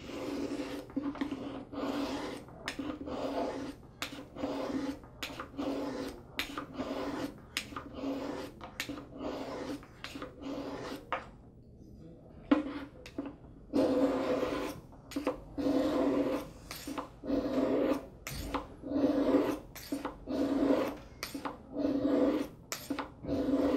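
A knife is drawn over the fine side of a sharpening stone in a rhythmic series of short, close rasping strokes with brief pauses, quiet and alone.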